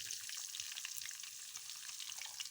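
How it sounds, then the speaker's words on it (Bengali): Whole cumin seeds and onion frying in oil, a steady, fairly soft crackling sizzle throughout with no voices, heard close. "আস্ত জিরাগুলো দিয়ে দিব, একটু ভেজে নেব আস্ত জিরাগুলো একটু"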